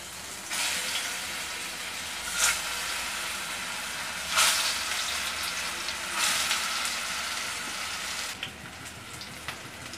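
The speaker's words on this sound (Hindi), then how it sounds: "अब हम पकौड़ों को सेलो फ्राई पहले कर लेंगे।" Oil shallow-frying pakoras in a kadhai over a gas flame gives a steady, even sizzle with a few louder spitting pops, close and continuous, with no talking.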